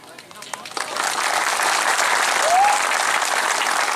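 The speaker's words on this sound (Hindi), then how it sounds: "आप लोग ताली मार रहे हैं" An audience claps in sustained, dense applause at a community gathering, a continuous crowd wash heard close and loud, with faint voices mixed in.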